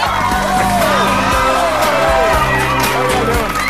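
Live studio audience at a 2009 X Factor audition session cheering and whooping loudly and continuously throughout, a dense crowd roar with music playing underneath.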